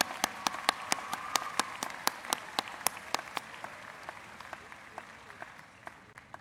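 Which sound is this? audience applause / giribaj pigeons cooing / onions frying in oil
audience applause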